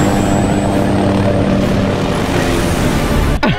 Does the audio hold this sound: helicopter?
yes